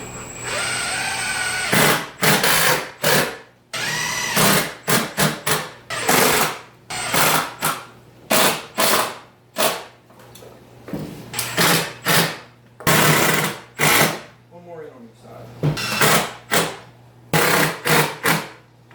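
A power drill whirs in repeated short bursts, driving screws into wood without pre-drilled holes, the wood splitting, one after another, loud and close with brief pauses between runs.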